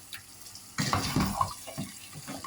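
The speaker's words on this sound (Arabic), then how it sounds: "هسه هاي راح ادير قلاص مي، هاي قلاص مي نخليه يتسبك." A glass of water pours onto chicken cooking in a pot for Indian biryani. It makes a short splashing gush that fades into a soft bubbling simmer, with no talking.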